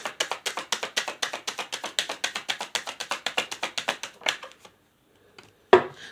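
A deck of cards riffle-shuffled close by, a rapid run of crisp flutters for about four seconds, then a brief pause and a single sharp snap as the cards are squared.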